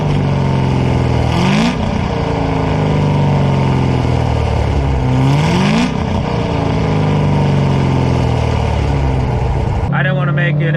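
Loud, deep rumbling Corvette Z06 exhaust with headers, X-pipe and mufflers drones steadily, rising in pitch with two revs before dropping away near the end.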